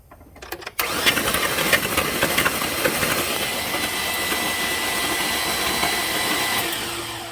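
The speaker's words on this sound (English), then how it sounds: "All right, so we're going to try to crank it." A smoking 5.3 V8 abruptly cranks and catches, then runs loud and steady with a dense roar after a brief quiet moment at the start.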